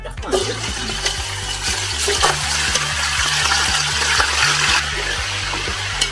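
Lamb meat, about 2.5 kg, hitting hot oil in a pot for biryani, giving a steady loud sizzle and crackle that runs through the whole stretch, with a faint rhythmic low clatter underneath.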